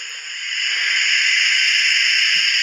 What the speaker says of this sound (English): So I've got the steam engine ready to come in.